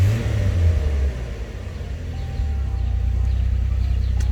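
The engine of a 1987 Jeep Wrangler YJ rumbles low and steady, dipping briefly before settling back into a throaty idle-like drone, heard up close with no talking.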